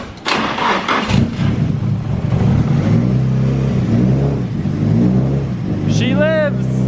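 A built Nissan SR20DET engine is started, with the throttle worked by hand; it cranks, catches and settles into a loud, close, uneven running note, with a short voice sound near the end.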